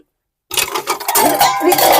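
Metal pots, dishes and cutlery clatter and clink loudly after a brief silence, a dense run of scraping and knocking kitchenware in a home setting.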